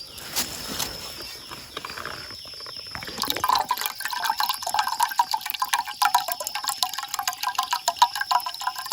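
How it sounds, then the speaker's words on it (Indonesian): Water drains out of a cut bamboo stalk in a forest, trickling and dripping into a container with a steady, close splashing flow that grows fuller and busier after a few seconds. "dalam bambu seperti ini terdapat air. Nah, bisa didengar."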